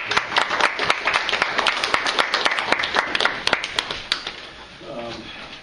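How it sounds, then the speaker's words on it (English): Small group of attendees at a town Board of Selectmen meeting clap, with distinct individual claps forming brisk applause that thins out and fades, followed by a brief voice. "I think we owe you a round of applause"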